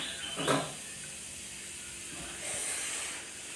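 A pressure cooker holding food cooked with salt lets out a brief hiss of steam near the start, then a soft, continuous steam whisper that swells again toward the end, fairly quiet.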